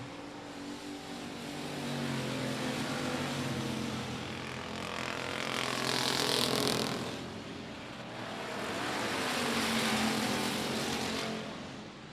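Race cars in the closing laps of a race at I-37 Speedway roar past in two loud swells that rise and fade, with a continuous engine drone between them.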